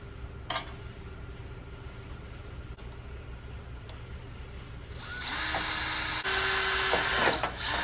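Quiet background hum, then a power drill starts up and grinds steadily through sheet metal during the last few seconds, close and fairly loud, on a 1980 Harley-Davidson Shovelhead FXB Sturgis restoration.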